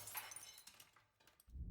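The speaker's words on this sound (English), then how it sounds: "There's a shattering mirror sound when we die in the long dark." On death in The Long Dark video game, a mirror shatters into bright glassy breaking and tinkling fragments, ending in a low thud, moderately loud with no talk.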